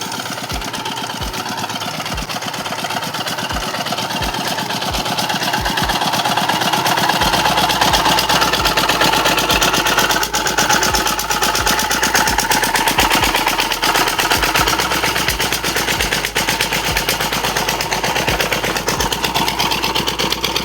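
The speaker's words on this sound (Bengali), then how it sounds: "এখানে আর একটা মেশিন চলছে এই যে।" Engine-driven pump running steadily in a rural farm field, pushing water through a pipe: a loud, continuous mechanical drone with a rapid chugging pulse, close and unbroken throughout, no voices.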